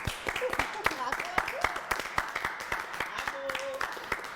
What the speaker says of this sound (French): j'aimerais qu'on applaudisse tous ceux qui travaillent sur la télévision nationale.